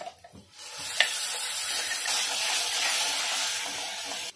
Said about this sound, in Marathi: आता इथे आपण टोमॅटोची पेस्ट केलेली ना ती टाकून घेऊया